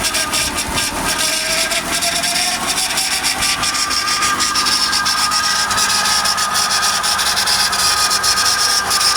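A 2005 Acura TL Type S with its 3.5L engine idles steadily, a constant close hum and rumble with a fine vibration and no change in level throughout.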